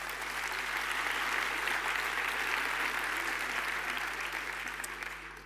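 Audience applause fills a hall at an anniversary business gala in Sant Cugat, a broad, sustained clatter of many hands that stays steady for over five seconds and then begins to taper, with no talking over it.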